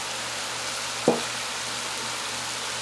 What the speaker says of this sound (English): I'm going to smash those too as I stir it in